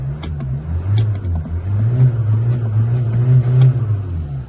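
A used car under inspection at a South Korean auction idles with a steady low engine rumble close by, rising slightly in a few gentle surges; no talk is heard.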